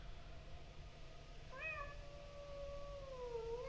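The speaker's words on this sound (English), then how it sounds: "the cat sounds in this game are funny" A cat meows in the video game Pathologic 2, one drawn-out, wavering mewl rising and then sliding downward over a low ambient background, fairly quiet and with no talking.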